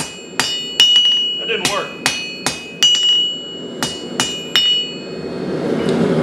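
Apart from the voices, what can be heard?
blacksmith hammering half-inch steel, forging trident fire poker barb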